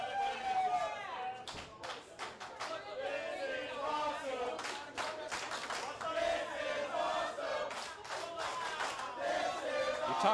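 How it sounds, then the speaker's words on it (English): A hot wrestling crowd at the Red Chevron Club chants in rhythmic unison before a match, loud and massed, with claps and scattered shouts between the chant phrases. "Talk about how hot the crowd is here at the Red Chevron Club, chanting "This is awesome" before the match even starts"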